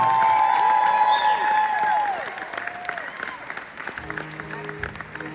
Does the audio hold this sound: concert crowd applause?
yes